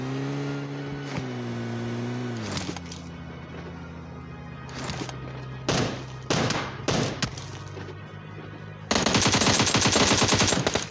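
Machine gun bursts in the video game PUBG, several rapid rattling volleys of automatic fire at close range followed by a loud sustained burst, with a low engine hum underneath.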